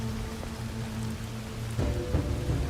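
Steady rain patters in the survival video game Soulmask, a dense hiss under a low in-game hum, with a few sharper drops or splashes late on.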